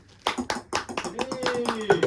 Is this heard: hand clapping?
yes